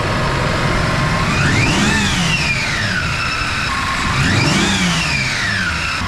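Toyota LandCruiser 80 Series engine running close by just after starting, revved twice in smooth rising-and-falling sweeps over a steady idle, loud and alone.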